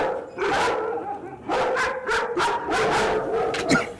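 Several dogs barking in quick bursts, loud and close, with short gaps between volleys and some overlapping yelps.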